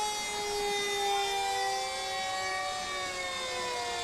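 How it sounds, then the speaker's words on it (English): Fire department truck sirens wail loudly and steadily through a parade, several sustained tones gliding slowly downward and overlapping, with no talk. "This is the one time you don't mind hearing the sirens one bit."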